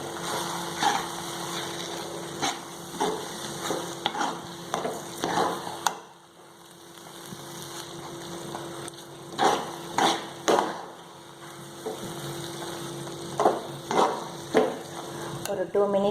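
Spinach and egg stir-fry with onion and tomato being stirred in a pan, soft sizzling under repeated scraping strokes of a spoon against the pan, moderately close.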